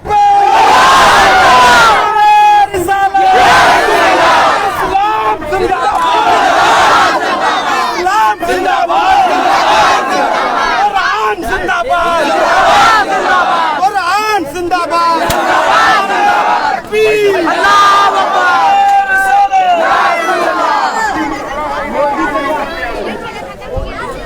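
A large protest crowd at an Eidgah Maidan gathering in Jamshedpur chants slogans in loud, steady unison, with voices rising and falling in repeated phrases, dense and close, and no breaks for the whole stretch.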